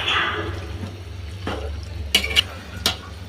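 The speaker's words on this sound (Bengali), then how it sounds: "পরে এখন আমি উল্টাপাল্টায় নেড়ে দেব।" Spinach, beans and potatoes being stirred in a cooking pan, with a soft sizzle underneath and a few sharp scrapes and clinks of the utensil against the pan, up close and with no talking.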